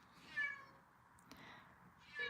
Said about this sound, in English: Ignore the cat, please.